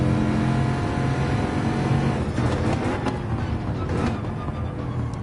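A Bugatti Veyron in Gran Turismo 7 at the Red Bull Ring, its engine roaring steadily and loudly as it pulls out of a tight corner in second gear, with shifting revs and no talk over it.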